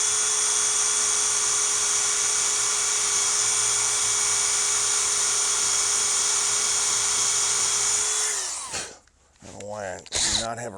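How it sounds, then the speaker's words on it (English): An electric drill bores steadily into a Mauser 71/84 barrel band for about eight seconds, a loud continuous whine that spins down and stops, followed by brief handling noises and a voice. "I intend to drill this hole damn near down to where those threads are"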